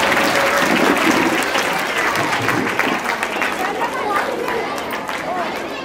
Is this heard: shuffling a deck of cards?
no